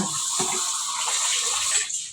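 Strong tap water gushes and splashes continuously, a loud steady rush that eases slightly at the very end.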